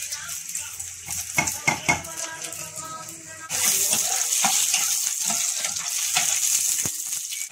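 Onion and garlic hit a hot pan for adobong kangkong with tofu, clattering utensil knocks at first, then a loud, steady sizzle of frying that swells midway and keeps going with occasional stirring scrapes.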